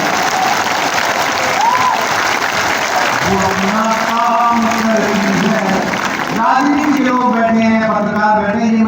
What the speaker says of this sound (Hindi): अगली पंक्ति जब समाप्त हो तो तालियों का महोत्सव हो इस हॉल में।